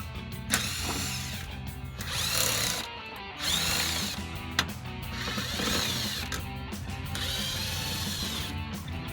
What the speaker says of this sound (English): We're going to remove 8 of these T15 Torx bolts in here.